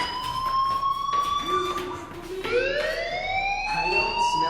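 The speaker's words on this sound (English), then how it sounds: "do you hear that fire alarm? That means you should be outside." A school fire alarm in the video game Life is Strange wails steadily for several seconds, its loud electronic tone rising and sliding in pitch, heard close with no voices over it.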